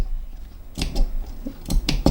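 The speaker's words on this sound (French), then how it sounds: "vous prenez une paire de ciseaux, vous allez faire des petites entailles d'environ 5 mm." Several short, crisp scissor snips cutting small notches into fabric, in quick succession, close up and quiet, after a brief silent pause.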